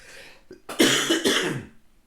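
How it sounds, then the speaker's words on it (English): A single close, harsh cough breaks out after a short breath, rasping for about a second before fading. "I'm going to cough again"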